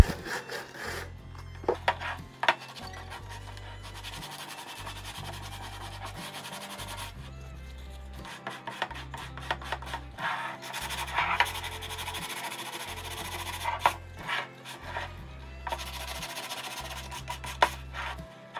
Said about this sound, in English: now it's time to sand. We're just going to take some sandpaper and go over the high points